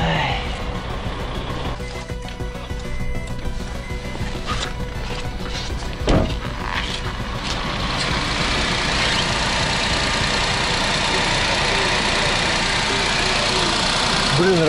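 A kei car engine idles steadily outdoors on a frosty night in remote taiga after a breakdown, with milky emulsion in its oil; a close, even broadband rumble, interrupted by a single knock midway, then continues smoothly.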